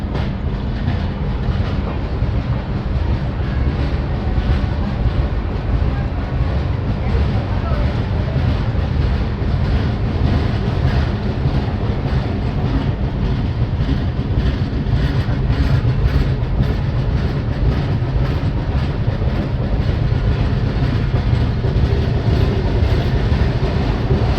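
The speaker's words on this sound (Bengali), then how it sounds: "কিছুক্ষণ দাঁড়ানোর পর দুর্গাপুর থেকেও ট্রেন ছেড়ে দিয়েছে।" The Howrah–Agra Cantt Chambal Express runs on after pulling out of Durgapur station, its continuous loud rumble and faint clickety-clack of wheels on rail holding steady for the whole stretch.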